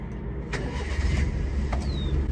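A Honda Acty kei truck's small engine cranks over and starts, a steady mid-level engine rumble running close by through the short stretch with no talk.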